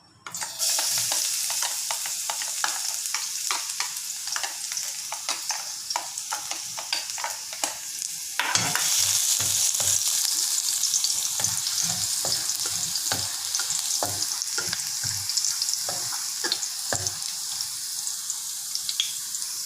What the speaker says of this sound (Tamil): கொஞ்சம் எண்ணெய் ஊற்றுவோம். இப்போ பூண்டை போடுவோம்.